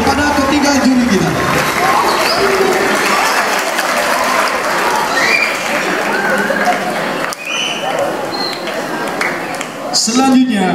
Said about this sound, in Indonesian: Berikan aplaus yang meriah kepada ketiga juri kita.